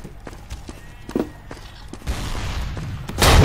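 Shotgun blasts in the dinosaur-versus-soldiers shooter Dino D-Day: sharp cracks scattered through clatter, then a louder sustained burst of noise near the end.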